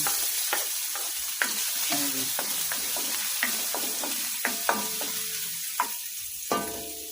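Garlic sautés in oil for chicken adobo with a steady medium sizzle and repeated sharp clacks of a spatula against the pan at irregular intervals.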